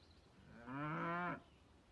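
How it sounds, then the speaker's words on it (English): A single drawn-out cow moo from an interactive art installation, a clear, mid-loud bovine call lasting under a second against a quiet room. "So yeah, we have two interactive cows right here."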